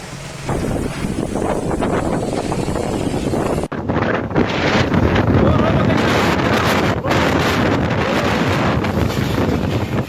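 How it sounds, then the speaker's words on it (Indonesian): Strong wind roars without a break across the concert stage at Anjungan Pantai Manakara beach in Mamuju, West Sulawesi, buffeting the microphone in a loud, steady gusting rush through the whole stretch. "Inilah detik-detik angin kencang yang menerjang panggung Festival Konser UMKM di Anjungan Pantai Manakara"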